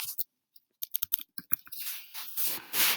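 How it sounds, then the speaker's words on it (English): A short word is typed into a spreadsheet cell, with quick separate key clicks up close that give way to a softer rustling wash. "what we're going to do is type the word color right in there"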